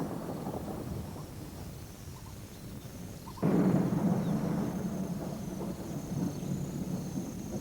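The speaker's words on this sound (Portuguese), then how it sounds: "Tem lugar a primeira das grandes tempestades do verão." A summer thunderstorm in the wild, first a low rumble with rain, then a sudden loud thunderclap midway that rolls on in a heavy sustained roar of rain and thunder.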